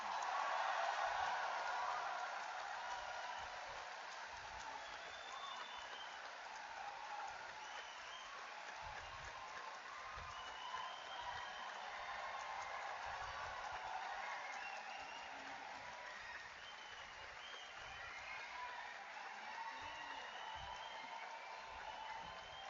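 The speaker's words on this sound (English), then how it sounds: "You are welcome to clap now to congratulate all the graduating students." Graduation-ceremony audience applauding at a university convocation in a large hall, a broad steady wash of clapping that stays even and moderately distant for the whole stretch, with faint murmurs mixed in.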